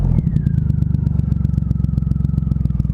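A low-slung motorcycle ridden on the road, its engine thumping in a steady, rapid rhythm, loud and close for the whole stretch.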